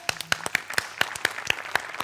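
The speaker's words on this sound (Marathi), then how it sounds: "एकदा आशाताईंसाठी जोरदार टाळ्या." A studio audience at a Marathi TV comedy show breaks into sustained applause, dense clapping rolling on steadily throughout with sharp individual claps standing out, loud and close, with no talk over it.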